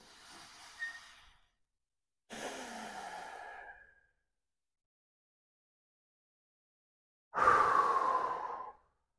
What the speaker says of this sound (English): So take deep breaths.